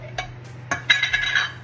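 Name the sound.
spoonful of desi ghee added to a pan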